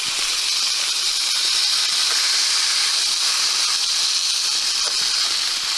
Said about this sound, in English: Doing an initial sear just to make sure that the surface gets that delicious crust.